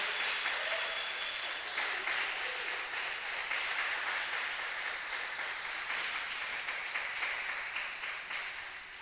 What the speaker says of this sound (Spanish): Y aplauda a Dios.